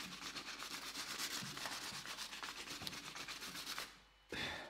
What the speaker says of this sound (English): So we're just going to sand that round.